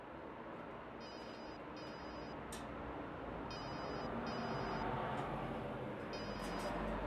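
A telephone rings in repeated short electronic bursts over a loud, steady background rumble, with no one speaking.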